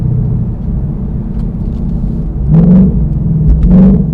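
A 2018-2019 Ford Mustang GT with active exhaust and an X-pipe rumbles at a low steady idle, then two quick throaty blips rise sharply during downshifts, loud and close.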